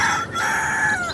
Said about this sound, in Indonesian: Setiap pagi terdengar suara ayam berkokok